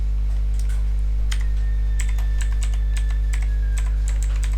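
Computer keyboard keys are pressed while working in CorelDRAW, a handful of separate sharp taps over a loud steady electrical hum.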